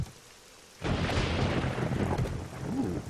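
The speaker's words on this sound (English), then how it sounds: "Ooh, stormy day." Thunderstorm in the video game 7 Days to Die: a quiet start breaks at under a second into a loud, sustained rumble of thunder and heavy rain that rolls on steadily to the end, with no talking.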